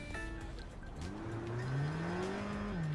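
A truck drives past in the video game Cyberpunk 2077, its engine note rising and sliding in pitch as it goes by, moderately loud over a steady rumbling city background.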